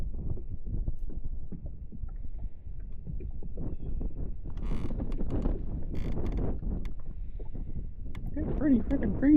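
Breezy wind on a crappie fishing outing buffets the microphone in a low continuous rumble with gusty swells. A person talks over it.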